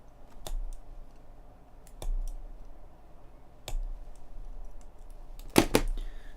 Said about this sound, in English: what I will do is just cut this sprue away